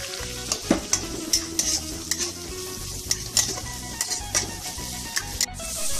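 Chopped onions and cumin seeds sizzle steadily in a hot pan for pav bhaji, with repeated scraping and clinking as a spoon stirs them.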